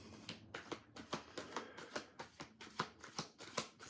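A deck of playing cards being shuffled close up, a steady run of crisp riffling bursts and slaps, loud and uninterrupted with no talking.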